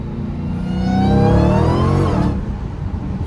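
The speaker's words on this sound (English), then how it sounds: "Get y'all another little second gear pull." A Dodge Hellcat on Nitto tires pulls hard in second gear, its engine roaring up in pitch as it accelerates, loud and close, before easing off near the end.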